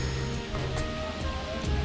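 Natural spring water at Gada Tirtha, on a hilltop temple site at Narahari Parvatha, rushes in a continuous, fairly close stream under a faint tonal hum.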